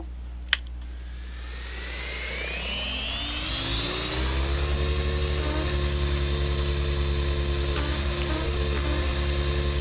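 An aircraft engine in a flight simulator game spools up with a rising whine, then settles into a steady loud idle drone with a high tonal whistle.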